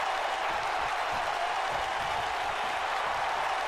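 A crowd cheers in the WWE 2K19 wrestling video game as a steady, even roar of applause and noise with no breaks.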